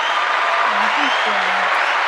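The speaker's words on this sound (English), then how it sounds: "Can we give her an applause?" Studio audience applause on a live pop-culture talk show, a dense steady wash of clapping over the full stretch with a voice speaking briefly underneath.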